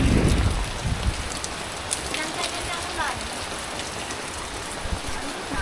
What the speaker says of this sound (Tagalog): Habang umuulan, nagbabagyo.